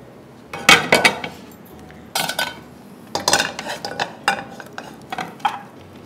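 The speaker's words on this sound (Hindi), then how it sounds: "अब हम लेते हैं अपनी कढ़ाई" A kadai wok is handled in a kitchen while aloo keema is being cooked, giving close, bright metallic clanks and clinks in irregular bursts with short pauses between them.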